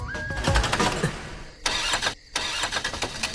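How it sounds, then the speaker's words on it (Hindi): A car engine cranks, turns over, then cuts out with a sputter before a brief silence and further cranking noise, loud and close, with no talk. "गाड़ी बंद हो गई और क्या?"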